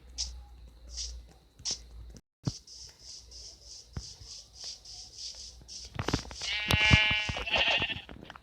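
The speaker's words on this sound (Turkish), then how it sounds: "Üç tane koyun kestik" A Minecraft sheep bleats amid a run of short repeated clicks and pops, with a louder wavering bleat toward the end.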